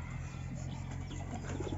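Pet pigeons cooing close by in a home loft in Gulbarga, low soft repeated coos over a steady background hum, with no talking.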